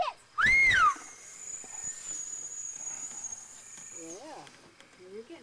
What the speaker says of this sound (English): I can whistle just like you.